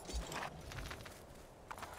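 Horse hooves in Assassin's Creed II, set in Tuscany: soft, quiet clip-clop of a walking horse in a steady rhythm over faint background ambience.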